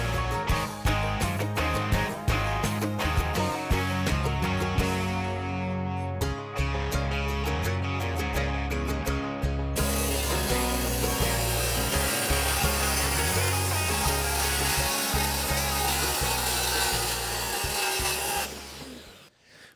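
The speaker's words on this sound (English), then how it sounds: "So we are cutting some plywood." Saw cutting through 3/4 inch plywood on a custom garage build, a steady loud rasping drone that runs almost continuously for about twenty seconds with brief breaks, close up and without talk.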